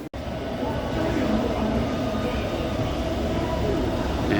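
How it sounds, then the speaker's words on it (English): A subway train in a Taipei station makes a loud, steady rumble and roar close by that holds evenly throughout after a brief click at the start. "here we are in the subway station"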